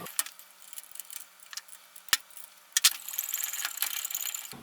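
Metal clicks and ratcheting ticks from a screw being tightened on a bench vise under reassembly, sharp close snaps scattered irregularly, then a denser run of metallic rattling toward the end.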